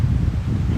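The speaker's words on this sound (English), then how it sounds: "It's getting windy." Wind gusts steadily across an outdoor backyard patio, a continuous low rumbling buffet against the microphone.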